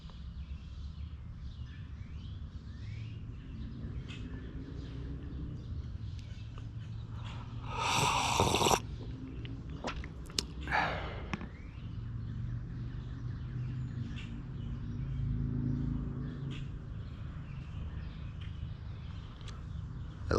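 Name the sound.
woodpecker and birds outdoors in the morning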